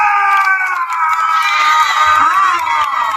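Audience at a school's annual drama performance cheers and shouts loudly, a dense wash of mixed adult and children's voices rising and falling throughout.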